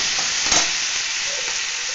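Tomato dropped into hot oil for a katla fish curry with poppy seed, bringing a steady, loud sizzle and frying hiss with a brief stirring scrape, no voices.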